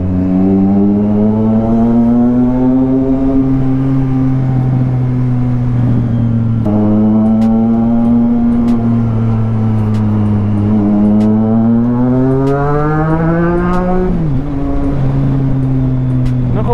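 Engine drone of heavy road traffic along a city street near a bus lane, steady and close, with slow rising and falling engine pitch as vehicles accelerate and pass, plus a few faint clicks; no speech.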